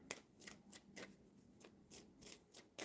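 Soft, close tarot card shuffling in quick repeated riffs and flicks, a rhythmic series of brisk papery bursts with no talking.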